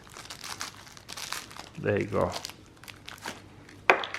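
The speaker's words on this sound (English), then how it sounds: "They stuffed it in that plastic bag." Plastic bag crinkling as an OTF knife from a tool brand is unpacked, scattered rustles and a louder crunch near the end, close and fairly quiet, with someone briefly talking.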